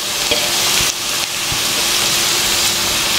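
Celery, carrot and capsicum sizzle loudly in hot oil for vegetable fried rice, a steady close hiss with brief crackles and a short dip partway through.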